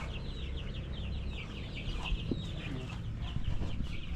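A hen clucks after laying an egg, giving a run of repeated, chattering clucks that stand out over steady outdoor background noise.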